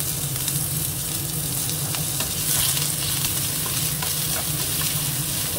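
Finely chopped onion fries in oil in a pan, a dense, continuous close sizzle with faint crackles and scraping on top, without any voices.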